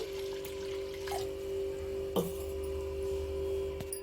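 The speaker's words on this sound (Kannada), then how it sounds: "ನೋಡಿ ಇದಕ್ಕೆ ನೀರು ಹಾಕ್ತಾಯಿದ್ದೀನಿ" Water is poured into a bowl of sago pearls that have soaked for several hours; a faint trickle and a few glassy clinks sit over a steady background hum, with no talking.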